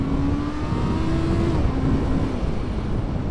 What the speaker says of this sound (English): I'll just do a quick pull up the speed limit just to show you what it's like.